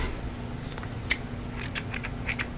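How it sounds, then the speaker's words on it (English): A pair of scissors cuts close to the microphone in a quiet ASMR setting, a crisp snip followed by a few softer light snipping sounds, with no talking. "I'm going to grab a pair of scissors"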